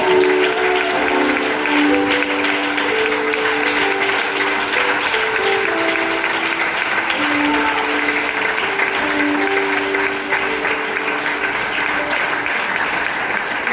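A church congregation applauds in a long, continuous, loud wash of many hands during worship, with faint tonal sounds running underneath throughout.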